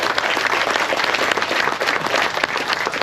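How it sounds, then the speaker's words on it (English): A round of applause from an audience at an adventure bike rider gathering, dense, steady clapping from many hands, close and sustained. "I think that deserves a round of applause."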